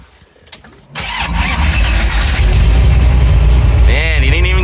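The 401 V8 of a 1970 AMC AMX muscle car with a 4-speed cranks briefly, then fires and settles into a loud, rumbling idle close by, with a voice briefly over it near the end.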